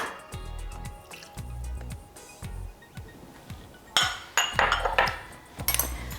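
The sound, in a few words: mixing sambal with lime juice in a container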